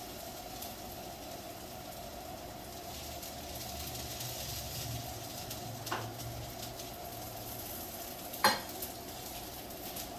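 Oil sizzling softly around a dosa frying on a pan, a quiet, even crackling hiss that carries on throughout, with a couple of brief utensil clicks partway through and no talking.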